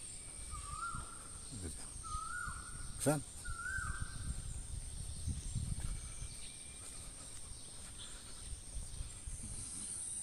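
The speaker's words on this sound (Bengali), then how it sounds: "কোকিলের ডাক" At dawn in Mymensingh, Bangladesh, an Asian koel calls from among tree leaves, giving three short rising notes at moderate distance. Faint insects, ambient noise and a nearby voice sit underneath.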